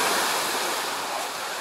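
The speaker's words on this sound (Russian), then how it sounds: "Смотрите, какие волны разбушевались прям. Волны шикарные." Ocean waves crash and wash onto Cleopatra Beach in Alanya, Turkey, a loud, steady roar of surf with no pause and no voices.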